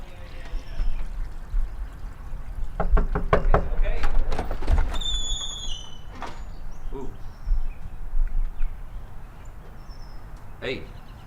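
A burst of knocks on a door lands in the middle, a few quick raps close by, with people talking before and after along with other small household thumps.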